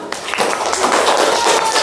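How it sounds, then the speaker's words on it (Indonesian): A classroom group claps hands together in a short burst of applause, a dense patter of close claps lasting under two seconds. "Tepuk tangan untuk kita semua"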